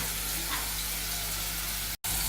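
Red chili paste sizzles in hot oil in a kadhai, a steady soft frying hiss with a brief dropout near the end.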